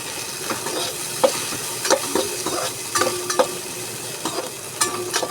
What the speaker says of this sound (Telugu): స్వీట్ కార్న్ని కొంచెం రోస్ట్ అవ్వనిద్దాం